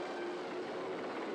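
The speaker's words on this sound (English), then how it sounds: "Attack helicopters confirmed." Steady, continuous rotor and engine drone from attack helicopters in a combat video game, a broad even roar with no breaks over a short stretch, no speech.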